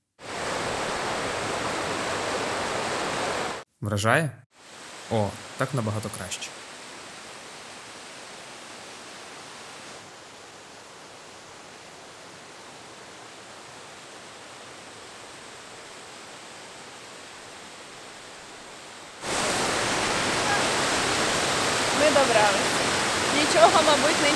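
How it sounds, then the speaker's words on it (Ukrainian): Steady roaring noise of a mountain waterfall in Czechia fills the opening seconds and returns loud at the end, broken by brief speech and a long quieter stretch between. "Ось це водоспад, заради якого ми і всі інші люди йшли сюди."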